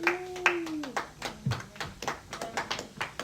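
A church congregation claps in rhythmic, steady applause, a run of sharp hand claps close by, with voices mixed in.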